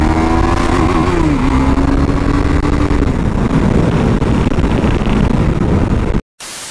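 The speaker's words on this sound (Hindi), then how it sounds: "तो खींचता हूँ मैं जल्दी जल्दी से बाइक को।" A motorcycle rides fast along a road in heavy morning traffic, its engine roaring loud and close with a climbing pitch early on, then a steady drone with wind buffeting, cutting out briefly at the very end.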